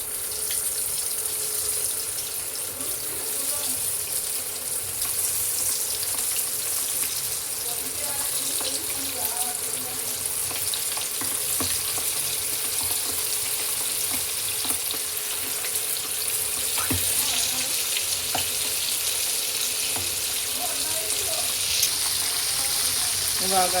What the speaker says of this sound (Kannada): ಇಲ್ಲಿ ಆಯಿಲ್ ಬಿಸಿ ಆಗಿದೆ. ನಾನಿವಾಗ ಇದನ್ನು ಫ್ರೈ ಮಾಡೋದಕ್ಕೆ ಹಾಕ್ತಾ ಇದ್ದೀನಿ.